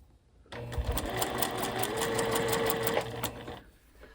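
Sewing machine stitching a quarter inch seam on curved fabric, starting abruptly into a steady fast whirring hum with rapid needle ticks for about three seconds, then stopping; close and moderately quiet.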